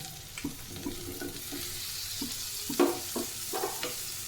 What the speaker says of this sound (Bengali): পেঁয়াজগুলো দিয়ে একটু নাড়াচাড়া করে নেব